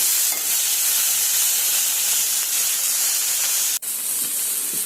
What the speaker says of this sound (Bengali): আমি সিদ্ধ করে রাখা ডুমুরটা এখন দিয়ে দিলাম তেলে